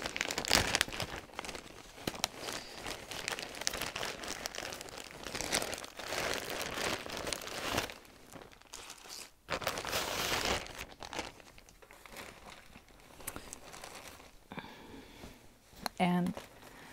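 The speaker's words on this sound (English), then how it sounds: "So I have it in my plastic bag here, so it's going to be a little bit of crinkling." A plastic bag holding a cross-stitch project is handled close up, with loose crinkling and rustling in irregular bursts throughout.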